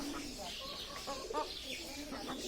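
Laying hens cluck in short, repeated bursts close by, a busy flock murmuring and calling over a constant low background noise.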